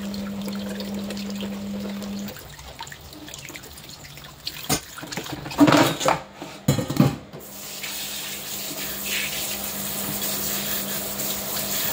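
Crab being rinsed again under running tap water, a steady trickle with a few brief louder splashes and clatters midway, close and alone with no talk.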